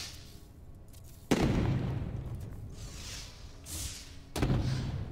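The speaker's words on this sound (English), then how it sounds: "Atlas fireworks." Atlas fireworks in No Man's Sky go off in two deep booming bursts, each followed by a long crackling, hissing fall-off, at moderate distance.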